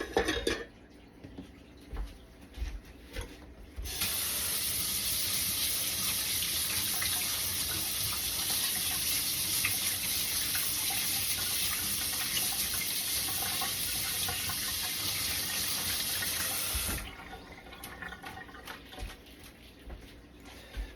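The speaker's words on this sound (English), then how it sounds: "One way I like to clean up as I go is to just rinse and reuse dishes." A kitchen tap runs full for about thirteen seconds while dishes are rinsed for reuse during sushi making, a loud steady rush of water framed by quieter clinks and handling of dishes before and after.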